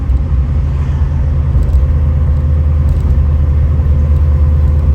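A 1971 Chevrolet Nova LS engine drones steadily at low pitch in overdrive with road rumble throughout, a continuous cruising sound heard from inside the vehicle.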